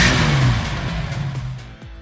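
A Holden Torana GTR XU1 with a 202 six-cylinder, triple Stromberg carburettors and XU1-spec tune gives a short, loud rev close by. The pitch sweeps downward as the revs fall away, with no talking.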